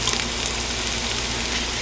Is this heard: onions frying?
yes